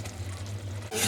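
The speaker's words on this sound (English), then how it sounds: "Stir everything together." Shrimps stirred into a simmering Nigerian seafood okra soup make a brief, soft sizzle over a low hum, then a louder burst of hiss and scraping near the end.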